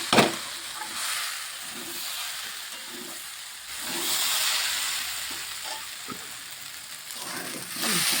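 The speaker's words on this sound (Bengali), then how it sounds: "ভালোভাবে একটু ভেজে নিচ্ছি" Rice, lentils and winter vegetables fry together in a pan for a temple-style khichuri, a steady hissing sizzle broken by repeated scraping stirs that make the sound rise and fall.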